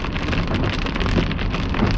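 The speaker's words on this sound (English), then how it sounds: "there's that hail core right in front of us" Hail and rain drumming hard on a car during a storm chase through a hail core, a dense, loud, continuous roar of impacts close around the vehicle with some wind noise, no talk.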